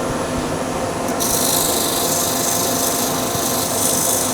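Coarse-grit sandpaper rubs steadily across a wooden bowl in a continuous, close, even rasping scrape, with a dust extractor likely humming alongside.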